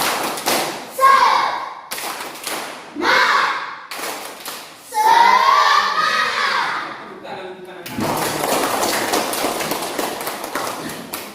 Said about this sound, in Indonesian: kita berdiri kita tepuk semangat supaya bisa semangat untuk mengerjakan tugas-tugas kelompoknya